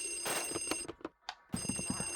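A telephone rings in the Luigi's Mansion video game, a close, bright ringing trill in two bursts separated by a brief gap, with game sounds under it.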